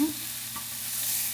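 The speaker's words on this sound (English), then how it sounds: "These are not great pans to sear steak." Steak searing in a non-stick pan gives a continuous, close, hissing sizzle that stays even throughout, with a faint scrape near the start and no voices.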